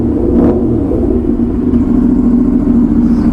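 An Aprilia RS 457 sport motorcycle engine idling loud and close, a steady throbbing exhaust note with a brief rev blip near the start, no talking.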